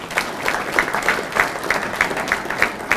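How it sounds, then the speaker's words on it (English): A room of people at a luncheon for high school hockey players gives a round of applause, steady clapping with a few sharper, closer claps standing out in a loose rhythm. "I think you deserve to give yourself a round of applause."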